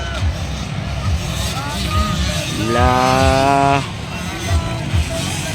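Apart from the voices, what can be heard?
65cc race engines at a race final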